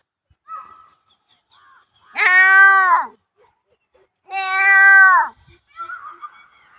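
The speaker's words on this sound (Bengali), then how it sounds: "শুনতেই পাচ্ছেন ময়ূরের শব্দ" Peacock calls in a riverside village near Bhagalpur: two loud, drawn-out wailing cries, each close and lasting under a second, separated by a pause, with faint background sounds between them.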